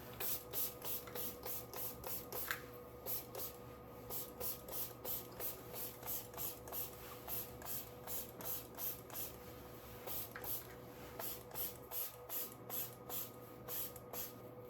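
Hair spray misted from an aerosol can onto styled hair, heard as a long run of short, rhythmic sprays, each a quick hiss, coming close and steady without any talking.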